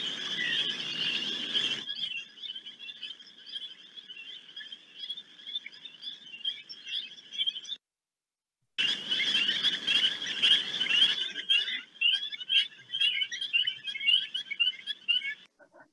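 Jingle bell frogs calling in a loud chorus of rapid, bell-like ringing trills, pausing briefly midway before resuming just as dense; no voices.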